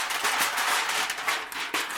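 Aluminum foil crinkles and rustles loudly and continuously up close, with sharp crackling bursts throughout.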